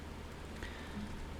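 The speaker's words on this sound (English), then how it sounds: "It's just raining" Rain falling in the video game Vintage Story: a steady, even hiss of rainfall with a faint patter throughout, no voices.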